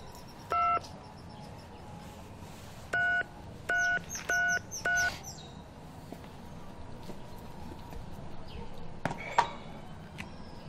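Telephone keypad tones dial out a number to call the police: one early beep, then a quick run of four to five evenly spaced touch-tone beeps, fairly clear over a quiet room hum.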